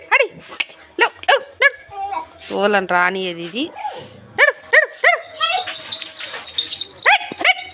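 A dog barks, yips and whines in repeated short, sharp bursts close by, with a person talking in between.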